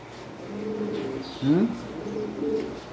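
Breeder pigeons cooing in a loft, a few soft low rolling coos close by over faint background noise, one louder throaty call in the middle.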